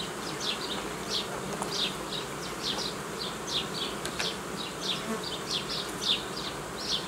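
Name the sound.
honeybees buzzing at a beehive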